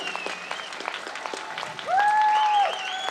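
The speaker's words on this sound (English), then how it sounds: "Let us give a very big applause." An audience claps after a slide guitar concert, with sustained close applause across the whole stretch and a sliding tonal note rising briefly above it.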